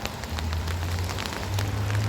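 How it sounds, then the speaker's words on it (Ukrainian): Steady rain falls in the Netherlands during the rainy season, a dense, continuous hiss of drops hitting surfaces close by, with a low steady hum underneath and no voices. "У нас розпочався період дощів."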